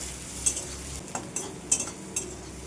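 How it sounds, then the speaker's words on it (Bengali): Onion and garlic fry in a pan for a shrimp and jute-leaf curry, with a low steady sizzle. A utensil stirs with a handful of scraping taps at an uneven pace, close up, with no talking. "খুব ভালো করে ভেজে নেব, পেঁয়াজগুলো লাল হয়ে যাবে, রসুন পেঁয়াজটা"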